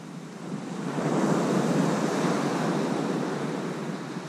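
Sea waves wash onto Great Yarmouth north beach in a steady, rolling surge that swells and then eases, with wind buffeting the microphone throughout and no voices.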